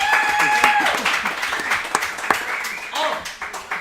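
Crowd applause and clapping for Giuliana at a Liverpool boys' football playoff gathering, a steady loud burst with a few sharper claps and cheers poking through.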